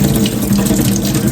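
Tap water runs steadily into a pressure cooker pot as rice is rinsed at a sink, a continuous close splashing stream with no voices.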